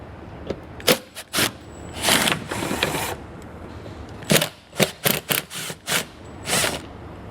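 Metallic clicks and ratcheting bursts from a 10 millimeter socket on an extension, removing the underbody panel bolts while fitting a Curt trailer hitch receiver, coming in short separate clusters close by with gaps between.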